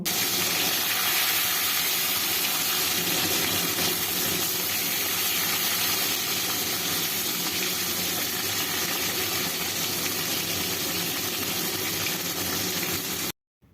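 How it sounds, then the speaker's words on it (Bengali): Chitol fish frying in hot mustard oil in a pan over a gas flame, a constant dense sizzle and crackle that holds steady, then stops abruptly at the end. "এবার আমি মাছগুলোকে ভেজে নেব"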